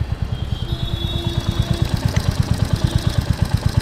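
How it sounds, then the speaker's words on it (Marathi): A Royal Enfield Hunter 350 motorcycle engine with a rattle from the engine runs up close, thumping in a fast, even rhythmic beat with no talk over it. "आणि अजून मला थोडंसं इंजिनमधून आवाज येतो माझ्या गाडीचा, तुम्हाला ऐकवतो, आवाज ऐकायला येईल का नाही."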